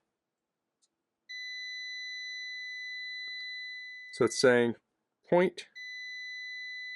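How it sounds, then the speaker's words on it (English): Digital multimeter in continuity mode gives a steady high electronic tone when its probes touch, cutting off briefly while someone speaks close by, then sounding again. "Now what we're hearing there is the continuity. So if I hold these together, it will beep."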